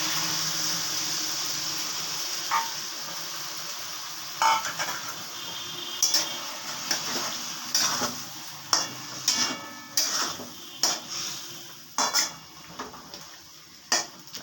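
A splash of water hits a hot pan of Bengali mustard-based cooking, a soft steady sizzle followed by a series of distinct stirring clinks and scrapes of a utensil against the pot, no speech.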